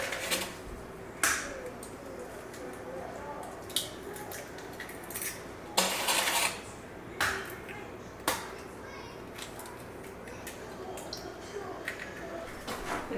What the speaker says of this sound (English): we're just going to whisk this all together